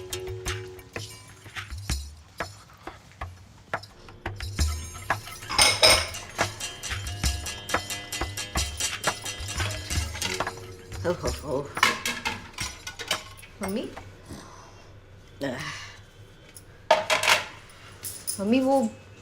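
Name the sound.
dishes and utensils being sorted in the kitchen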